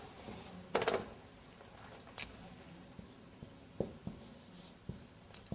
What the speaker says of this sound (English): I will write down here